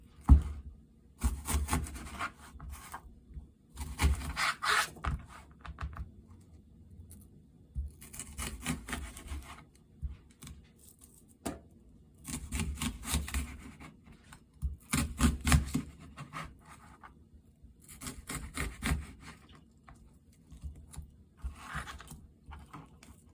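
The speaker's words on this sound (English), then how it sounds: "Cut onion into slices." A knife slices an onion on a cutting board while making Japanese curry: close, rhythmic bursts of quick cutting strokes with short pauses between them, and no talk.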